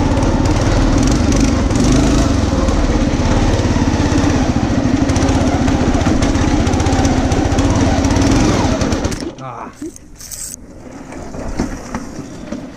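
Small engine on a homemade motorized lawn chair with a belt clutch, running loud and steady with a buzzing, rattling drone close by, then cutting out abruptly near the end, leaving quieter low rumble.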